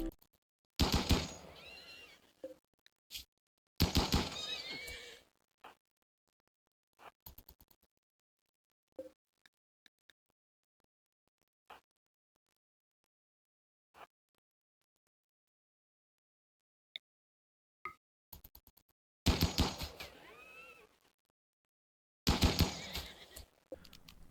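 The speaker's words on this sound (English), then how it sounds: "The horse is back for revenge." A horse neighs in the RimWorld video game, several loud whinnying bursts separated by long quiet gaps, with a few faint clicks in between.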